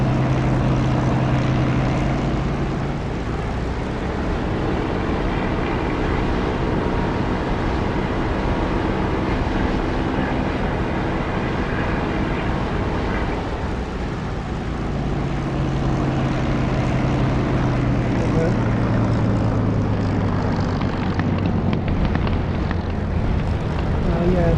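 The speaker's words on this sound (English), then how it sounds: "as I get close to the runway when I land, listen for the increased sound, where you get reflected sound off the road." Aircraft engine drone during a landing approach in the DCS flight simulator, a loud continuous roar with steady low humming tones that swells as the runway nears.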